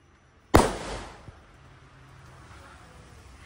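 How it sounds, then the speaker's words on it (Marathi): Firecrackers set off outdoors during a Ganpati festival celebration in the Konkan, Malvan, giving one sharp loud bang followed by a decaying crackle and a faint later pop, then quiet background. "आता आम्ही इथे फटाके लावणार आहे"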